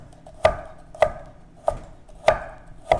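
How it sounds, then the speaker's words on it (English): A knife slicing a carrot thinly on a cutting board makes five crisp, evenly spaced chops about half a second apart, close and clear against a quiet background. "For the carrot, I recommend to slice diagonally and then"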